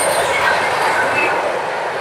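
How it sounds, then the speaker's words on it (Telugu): A Janmabhoomi Express train from Visakhapatnam rushes past close by at full speed, a loud roar of wheels and rails with faint metallic squeals, no talking. "ఫుల్ స్పీడ్ మీద వెళ్తుంది ట్రైన్"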